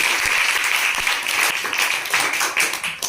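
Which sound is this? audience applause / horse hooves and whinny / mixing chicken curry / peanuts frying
audience applause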